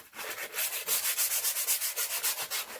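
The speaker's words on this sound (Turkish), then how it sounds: "Onları da basit bir zımparayla zımparalıyorum." Sandpaper rasps back and forth across splintery wood for a kitchen shelf in quick, even strokes, a dry scratchy rhythm repeating close by with no talking.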